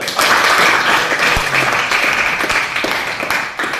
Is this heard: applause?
yes